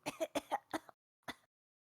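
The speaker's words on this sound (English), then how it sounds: "Cough back to life." A player in a tabletop role-playing session voices a character coughing back to life: a quick run of four close, dry coughs, a short pause, then one more, with silence between.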